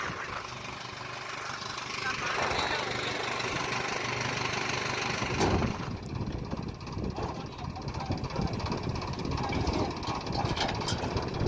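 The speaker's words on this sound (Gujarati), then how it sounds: "હાલ ટ્રેક્ટર આગળ લે." A tractor engine rumbles steadily as it moves forward during a chickpea harvest, unloading from its trolley box, with a low, continuous drone that grows louder partway through and people talking over it.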